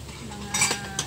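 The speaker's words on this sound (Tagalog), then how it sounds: "nilipat natin yung mga pinggan na mga sinauna" Old plates being shifted and knocked together, giving a couple of quick, light clinks against a quiet background.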